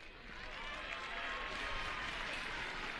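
A stadium crowd applauds steadily as player Coco leaves the pitch during a UDG Tenerife versus Real Madrid women's league match, a dense, distant wash of clapping with no clear voices.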